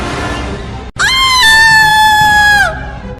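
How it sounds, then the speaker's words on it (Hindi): A woman's sharp, piercing scream rings out loud and sustained for nearly two seconds after a brief pause, rising in pitch and then falling away as it ends. "ऊपर का नजारा देखते ही वो बस एक तीखी आवाज में चीख पड़ी"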